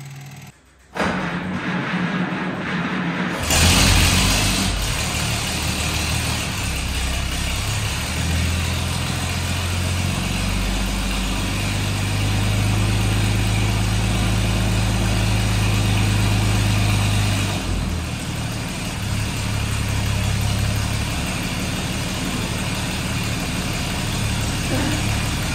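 A fire engine cranks from cold with choke and throttle, then catches and settles into a loud, steady low-pitched idle that holds without a break, with a slight change in tone near the end.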